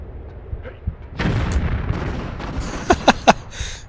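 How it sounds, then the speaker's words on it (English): In Tomb Raider 3, a grenade launcher fires and explodes in Antarctica, bringing a rumbling boom that rolls on for over a second, followed by a quick cluster of sharp gunshot-like cracks. "I'm actually going to grab my grenade launcher"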